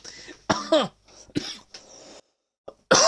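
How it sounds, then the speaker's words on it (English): Several sharp coughs in quick bursts, close to the microphone, separated by short pauses, with some quieter breathy sounds between them. "As the coughs come out."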